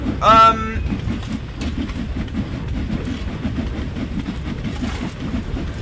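A steam locomotive departs Crewe station in Train Sim World. A short whistle blast opens, then a steady rhythmic chuff and wheel clatter continue close and loud, with a voice faintly underneath.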